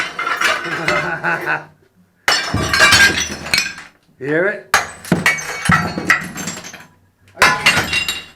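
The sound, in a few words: toilet tank being smashed apart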